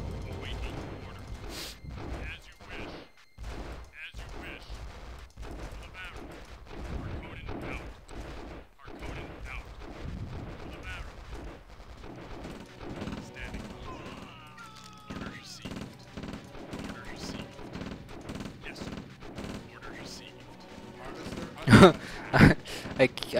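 Units fire on a factory in Dune 2000, a scattered series of sharp shots and impacts repeating irregularly, with a louder cluster of hits near the end.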